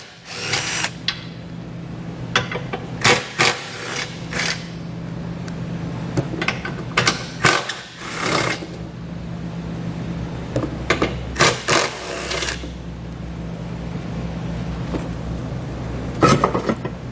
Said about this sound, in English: we're going to take a 12mm socket and remove all 4 of the bolts